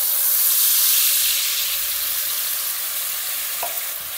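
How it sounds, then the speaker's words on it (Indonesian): Spice paste of shallots, garlic, candlenuts, chili and dried shrimp sizzles and crackles in hot cooking oil, a loud steady hiss close by that eases slightly near the end, with faint stirring and no talking. "Panaskan minyak goreng, lalu kita tumis bumbunya."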